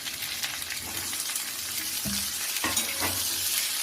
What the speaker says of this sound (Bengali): এগুলো হালকা হালকা ফ্রাই হয়ে আসলে আমরা টমেটোগুলো দিয়ে দিই